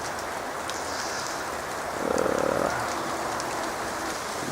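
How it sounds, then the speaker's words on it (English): Wet sleet falling outdoors in Blackheath at night, a continuous soft patter and hiss of drops landing on surfaces, fairly even and moderately loud. "Come on, we got sleet."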